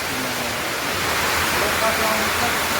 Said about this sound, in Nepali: पानी चाहिँ डेन्जरै आयो नि त